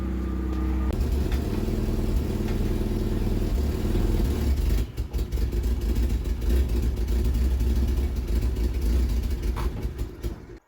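A 1975 Vauxhall Viva HC, abandoned for thirty years, idles steadily after restarting, its old points ignition giving a loud, continuous low rumble close by with a brief dip midway.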